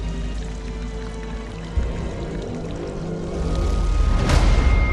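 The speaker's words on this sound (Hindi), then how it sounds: "यहाँ सोर्स ऑफ वाटर यानी पानी का स्रोत ऊंचाई पर है, जहाँ से पानी प्रेशर के साथ गिर रहा है" Water from a hillside spring in Chhattisgarh falls under pressure with a steady rushing, pouring wash that builds louder toward the end, with no talk.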